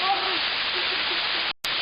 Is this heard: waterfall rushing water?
yes